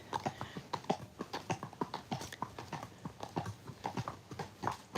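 Horse hooves clip-clop on a road at a relaxed walking pace, an even, close rhythm of sharp knocks that keeps going throughout, with nobody speaking.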